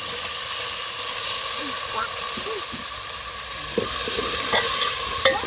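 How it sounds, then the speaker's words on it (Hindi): Radish and chili fry in a pan in a Sindhi village kitchen, a steady loud sizzle with occasional stirring scrapes and clinks close by. "मिर्ची डाल दिए, अभी मूली डाल रहे हैं।"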